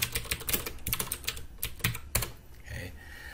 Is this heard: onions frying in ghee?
no